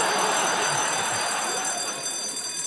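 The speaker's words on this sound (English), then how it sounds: "That's the pissing alarm." An alarm rings continuously on a TV game show studio set, a harsh, bright, buzzing bell that stays loud and unbroken throughout.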